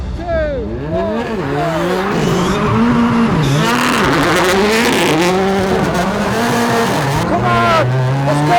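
A rally car is driven hard on a real-life timed lap, its engine revving up and down through the gears with repeated tire squeals and skids, loud and close.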